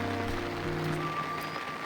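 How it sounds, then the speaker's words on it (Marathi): Heavy rain pours over a village in the Konkan countryside as a steady, dense hiss that fills the whole clip evenly, with no voices. "पाऊस जोरात लागतो आहे मित्रांनो गावाला"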